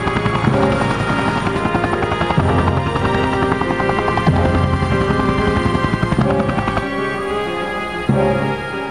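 A helicopter flies close and loud, its rotor beating in a steady, rapid chop with a constant engine whine, continuous throughout with no voices.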